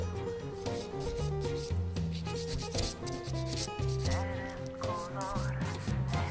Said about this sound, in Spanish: tomamos nuestra lima 180, 100-180 y comenzamos a limar laterales